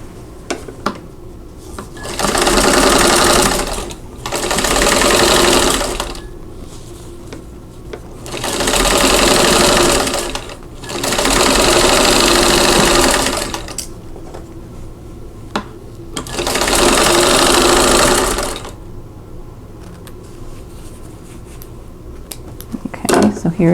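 A sewing machine stitches quilt block seams in five bursts of steady whirring, each a couple of seconds long, separated by quieter pauses with faint handling noise; close and loud.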